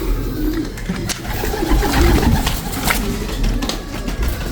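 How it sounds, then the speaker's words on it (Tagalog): Cooing from ice pigeons, a fancy breed, kept alongside racing pigeons in a loft, with low murmuring coos that repeat steadily and overlap from several birds nearby, against a soft background of rustling and shuffling. "Racing Pigeon to. Ito naman, Ice Pigeon na fancy."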